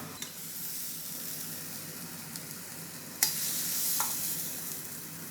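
Beetroot stir-fry sizzles steadily in a pan while a spatula gives a few sharp scrapes and clinks, then a louder hiss as the food is moved toward a plate, close and without talk.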